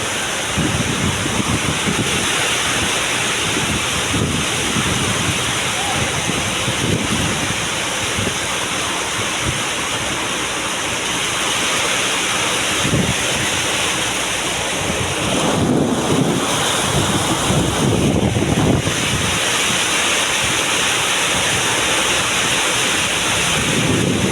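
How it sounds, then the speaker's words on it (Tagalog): A constant roar of strong wind and heavy rain at a rice mill, buffeting the microphone in gusts, loud and unbroken throughout. "May bigla lang yung hangin at saka ulan."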